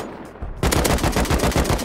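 Rapid automatic AK rifle fire in the survival game Rust, a quieter lead-in followed by a sustained loud burst of fast, evenly spaced shots.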